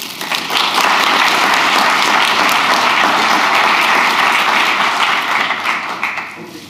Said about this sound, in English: I would like an extra warm applause for Gerard